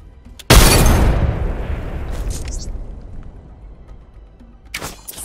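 A frag grenade bursts in Apex Legends with a sudden loud blast that rolls into a long, fading rumble, followed a few seconds later by a short, sharper crack.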